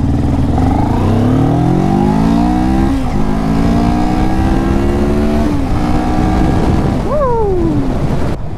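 A 2022 CF Moto 650NK motorcycle accelerates hard on a freeway, its engine note rising through the gears in repeated climbs with brief dips at the shifts. Loud and close, with heavy wind rush throughout.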